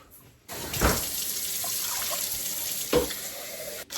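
Water runs steadily from a tap for a few seconds, splashing into a container, with a couple of brief clunks and a sudden stop at the end.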